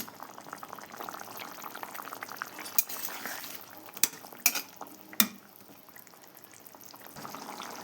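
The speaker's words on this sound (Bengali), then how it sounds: "জলের মাছ ছেড়ে দিলাম" Rohu fish pieces simmering with potatoes in a boiling water-based curry, a steady low bubbling hiss with a few sharp clinks of a utensil against the pot partway through; no voices.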